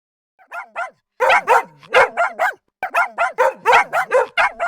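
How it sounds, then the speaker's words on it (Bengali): A dog barks repeatedly and close by, a few sharp barks at first, then rapid bursts of barking in quick succession. "কুকুর ডাকছে কেমন করে,"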